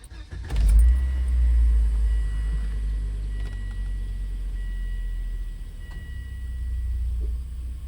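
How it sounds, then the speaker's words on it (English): A Volvo V70 car engine, 2001-2002 model year, cranks and catches near 0.5 s, then settles into a steady, close, low idle rumble that runs alone to the end. "let's go and start the car."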